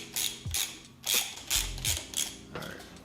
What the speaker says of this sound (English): Just gonna loosely tighten this up, get it started